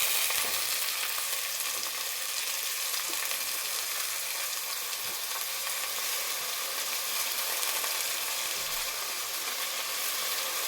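Potatoes and sprouted field beans fry for sambar in a pan, a steady, close hiss of sizzling oil that continues evenly throughout with no voices.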